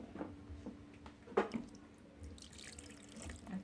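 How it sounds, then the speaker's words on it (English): Water is poured into a cooking pot holding food for Ghanaian mpotompoto, giving faint splashing and trickling sounds with one louder splash near the middle, close and quiet. "Then you add your water. Make sure the water comes up above the food like so."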